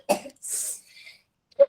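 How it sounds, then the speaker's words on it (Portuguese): A child coughs close by in a few short, rough bursts spread over about a second and a half, with quiet gaps between them. "Estou aqui com um filho tossindo aqui do lado"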